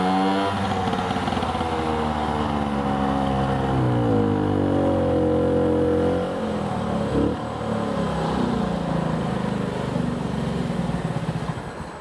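A Vespa 50 smallframe scooter ridden after a clutch plate replacement, its small two-stroke engine buzzing loudly and continuously, the pitch rising and falling through gear changes and throttle shifts.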